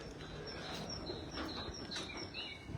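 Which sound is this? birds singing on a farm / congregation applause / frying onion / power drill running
birds singing on a farm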